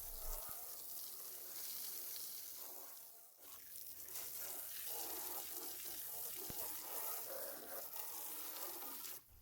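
Water from a garden hose sprays steadily against a metal mower deck during washing, a continuous loud hissing wash with a brief dip partway through.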